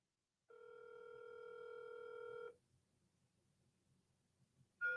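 A single long electronic telephone tone sounds steadily for about two seconds, then stops, followed by quiet background and the start of another tone.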